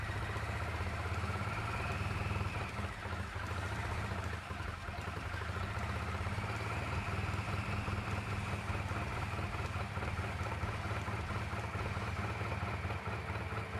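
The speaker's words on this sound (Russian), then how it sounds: "Двигатель завелся, правда нестабильно" A VAZ Oka engine swapped into a home-built buggy runs unevenly after a Hall sensor and ignition coil replacement, a steady close-up idle with a slightly ragged, wavering beat and metallic clatter.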